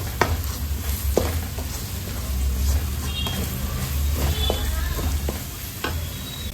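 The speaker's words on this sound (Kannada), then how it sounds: "ಸ್ವಲ್ಪ 1 ನಿಮಿಷ ಈ ಮಸಾಲೆ ಎಲ್ಲ ಎಣ್ಣೆಯಲ್ಲಿ ಫ್ರೈ ಆಗಲಿ" Masala fries in oil for a spicy chicken liver fry, a continuous close sizzle with irregular spatula scrapes and taps on the pan, steady and moderately loud with no talking.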